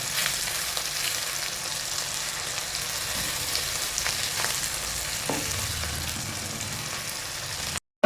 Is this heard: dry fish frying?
yes